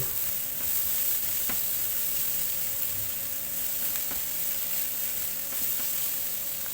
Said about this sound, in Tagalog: Ayan, gigisa muna natin.